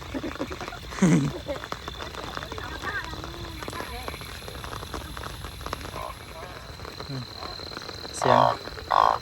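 Frogs croak at night after heavy rain, scattered calls rising in short loud bursts against a quiet wet background, with people talking nearby.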